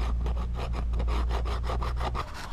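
Hand cutting a slit into an L-type engine mount on a 1980 VW Caribe, heard as a continuous close rasping saw stroke, rough and steady, ending with a brief clunk.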